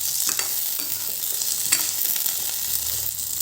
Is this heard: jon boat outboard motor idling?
no